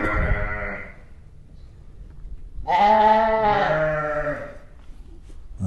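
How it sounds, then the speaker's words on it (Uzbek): Young lambs, one to two months old, bleat nearby in a pen, with two distinct wavering calls separated by a brief pause, loud and close with no talking. "Qo'zichoqlarimiz."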